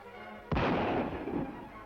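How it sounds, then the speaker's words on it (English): A single sharp gunshot cracks out, followed by a long rolling echo that slowly fades. "Gunshot mean people."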